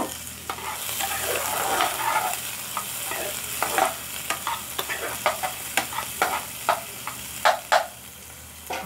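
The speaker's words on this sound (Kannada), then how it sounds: "ಸೊ ಸಾಸಿವೆ ಸ್ವಲ್ಪ ಚಟಪಟನ ಸಿಡಿಯೋ ಟೈಮಲ್ಲಿ" Mustard seeds spluttering in hot oil in a pan, irregular sharp pops and crackles over a soft sizzle, growing more frequent and louder toward the end, with no voices.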